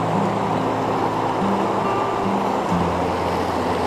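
Wild trout stream flowing on the North Fork Moormons River near Sugar Hollow Reservoir, a steady broadband rush of moving water close by, continuous and alone with no talk.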